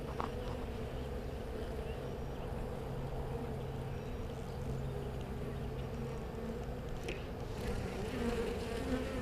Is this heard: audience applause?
no